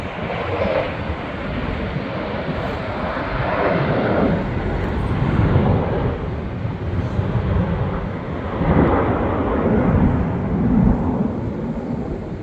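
A civilian aerobatic jet team at an air show passes overhead, a sustained broad roar swelling and fading in a couple of waves as the jets sweep by in the distance, with no voices.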